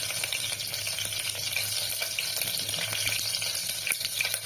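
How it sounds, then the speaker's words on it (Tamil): Spices and curry leaves crackle and sizzle in hot oil for tomato rice, a steady bright frying hiss with small popping bursts, close and continuous, no talking. "இதெல்லாம் நல்லா பொரியட்டும்"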